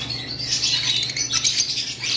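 Lutino red-eye Fischer's lovebirds give a busy run of shrill squawks and chatter, close and moderately loud, with faint rustling and no speech.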